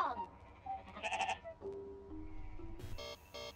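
Sheep bleating inside the horror video game Amanda the Adventurer, a few short wavering bleats near the start and a harmonic-rich call toward the end, set against game background sound.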